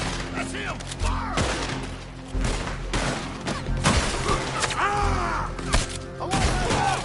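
Gunfire in the Western video game Red Dead Redemption 2 comes as a handful of sharp, booming shots spread across the scene, loud and close, mixed with shouting voices and game sounds.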